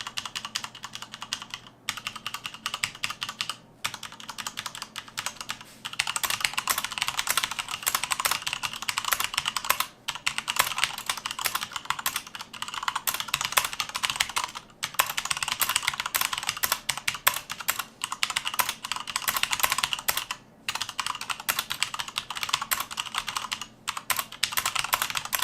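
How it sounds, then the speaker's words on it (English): Steady typing on a Drevo BladeMaster Pro RGB mechanical keyboard, with dense bursts of close, crisp key clicks and clacks and brief pauses between runs. No one speaks. "here's a type test"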